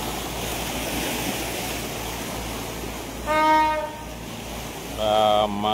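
A ship from the Mentawai islands sounds two short blasts of its horn, clear and fairly close, over steady wind and water noise.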